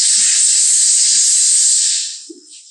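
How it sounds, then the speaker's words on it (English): Compressed air blasts in one steady, loud hiss during a motorcycle Dominator twist grip installation, holding for about two seconds before tapering off, with a brief small clunk near the end. "a little compressed air"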